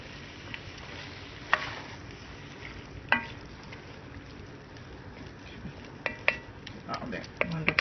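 Cilantro and sauce being stirred together in a pan, with soft scraping and clinks of a utensil against the pan over a low sizzle, under occasional talk.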